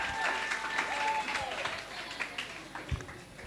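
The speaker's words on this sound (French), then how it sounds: "Vos applaudissements, s'il vous plaît." Applause from an audience at a church service, a dense, steady wash of clapping across the whole moment, with faint voices and cheers mixed in.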